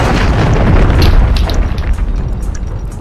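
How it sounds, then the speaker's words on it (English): A cruise missile detonates in Call of Duty: Modern Warfare III, producing a loud, heavy boom whose deep rumble sustains for several seconds and slowly trails off, with no talking. "Hostiles launched a cruise missile."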